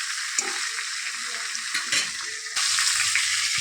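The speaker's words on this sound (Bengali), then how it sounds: "তেলটা ছিল তার মধ্যেই আমি এখন মাছটা ভেজে নেব। মাছটা কিন্তু খুব ফুটবে।" Live catfish pieces and heads frying in hot oil, a loud steady sizzle and spatter throughout, growing denser and louder toward the end, with occasional stirring clinks.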